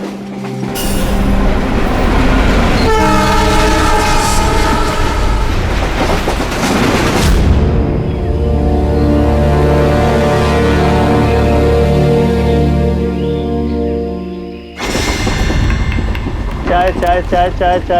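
A moving train in a dramatized scene, with a loud, steady rumble and ringing tonal noise from the carriage as people talk over it.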